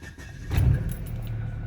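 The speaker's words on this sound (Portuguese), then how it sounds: "Vamos lá, vou funcionar o carro." Keys rattle, then a Chevrolet Vectra with a recently replaced fuel pump cranks and its engine catches, settling into a steady low idle close by.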